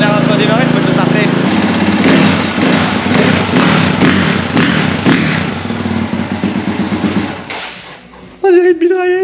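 A Honda CRF dirt bike engine runs loud and close with a rough, pulsing rumble and clattering thumps. It cuts out near the end, and a brief higher-pitched sound follows.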